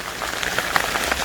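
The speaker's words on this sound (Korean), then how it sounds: "빗소리 들리시겠지만 비가 상당히 내리고 있습니다" Heavy rain falls at a construction site, a dense continuous patter of drops striking hard surfaces close by, with no voices over it.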